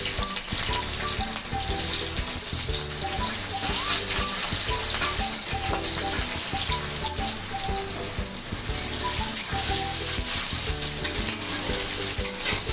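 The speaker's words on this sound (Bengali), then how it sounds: "গরম হয়ে গেছে, এবার কড়াইতে পেঁয়াজগুলো ছেড়ে দিলাম।" Onions dropped into hot oil in a wok, frying with a loud, steady, close crackling sizzle that runs unbroken throughout, with faint clinks and stirring underneath and no talk.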